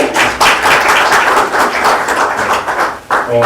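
A lecture audience at an ethics forum applauds after a professor's talk, loud close clapping continuing steadily with a brief dip near the end.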